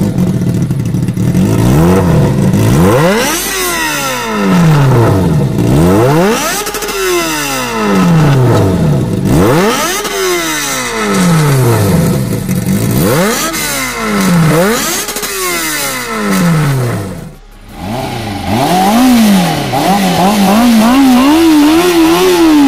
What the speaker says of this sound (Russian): Именно здесь приятный звук выхлопа.